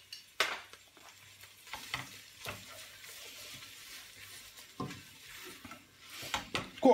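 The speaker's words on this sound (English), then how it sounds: "Get the onions caramelised up." Onions cooking with brown sugar in a pan for French onion soup are stirred with repeated scraping strokes, and a faint sizzle sits underneath.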